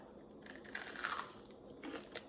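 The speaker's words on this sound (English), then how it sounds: "did you hear the crunch?" A crunchy homemade sourdough crouton, hot and golden brown, is bitten and chewed close up, giving a few faint crisp crunches over quiet room tone.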